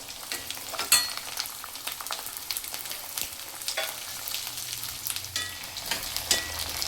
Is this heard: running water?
no